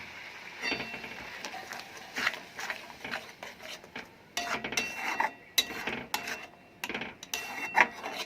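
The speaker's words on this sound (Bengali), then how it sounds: "সব নেড়ে চেড়ে ভালোভাবে মিশিয়ে নেব" Spoon scraping and stirring through a pan of spiced masala as curd and cashew paste are mixed in for a prawn curry, giving close, irregular rasping strokes and light clinks with no talking.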